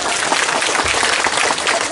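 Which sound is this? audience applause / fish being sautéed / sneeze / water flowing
audience applause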